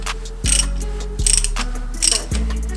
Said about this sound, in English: the cool part about a ratchet, check this out. You can just keep going like this.